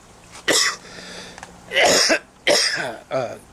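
A person coughs four times in quick, harsh bursts, close and loud, with brief quiet gaps between them.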